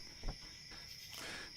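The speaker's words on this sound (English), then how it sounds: "That's why you're hearing crickets." Night crickets in the video game Noble Fates, a faint steady high chirring drone running throughout with no other sounds.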